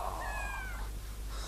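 A white cat perched up in a tree gives a single drawn-out meow, faint above a steady low hum.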